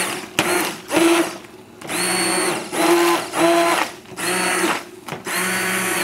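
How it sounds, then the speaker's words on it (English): An immersion blender works through chicken and spinach soup in short bursts, its motor whirring on and off repeatedly with brief pauses between pulses as it is moved up and down in the pot. "Now we put the immersion tool up and down."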